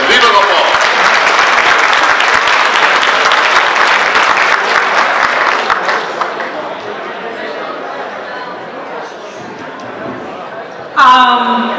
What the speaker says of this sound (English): Let's give another big round of applause for Nepal